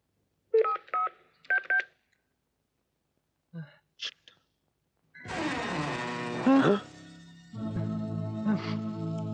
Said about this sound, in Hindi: एक काम कर, तू रीटा को जल्दी से फोन कर